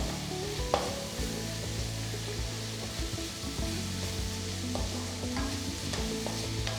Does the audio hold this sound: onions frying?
yes